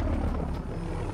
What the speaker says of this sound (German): Hubschrauber ist laut